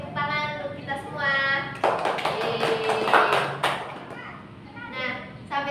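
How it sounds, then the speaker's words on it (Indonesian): A class of schoolchildren clapping together after finishing a classroom game, a burst of quick, close applause lasting about two seconds, framed by a teacher and children talking before and after. "Tepuk tangan untuk kita semua."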